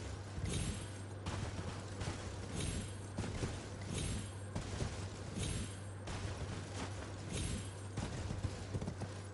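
Horse hooves clip-clopping in the video game Elden Ring, a steady galloping rhythm of repeated thuds over a constant low hum, fairly close and even in loudness throughout.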